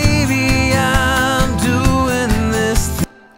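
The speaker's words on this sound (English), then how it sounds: "all that percussion together sounds like this" Mixed percussion layers built around a punchy kick drum in a bedroom-recorded song, playing as a dense, steady groove with tonal elements, loud and close, cutting off abruptly near the end.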